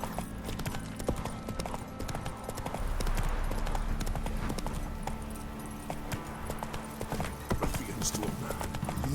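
Rapid galloping horse hoofbeats in The Witcher 3, clip-clopping steadily throughout, with a voice speaking over the clatter and some background ambience.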